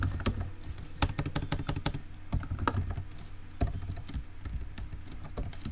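Code being typed on a computer keyboard for a PHP and MySQLi project: irregular bursts of close, crisp key clicks with short pauses between them, with no voice present.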